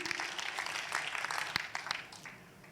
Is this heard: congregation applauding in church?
yes